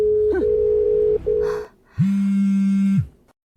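A telephone tone sounds after a call is hung up, a loud steady beep that cuts out briefly and then returns as a lower sustained tone lasting about a second.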